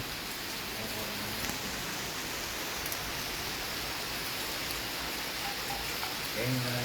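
Steady rain falls at a viewpoint in Phuket, a dense even hiss of drops on surfaces filling the whole stretch without a break, with no voices over it.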